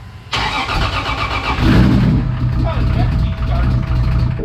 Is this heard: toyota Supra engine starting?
yes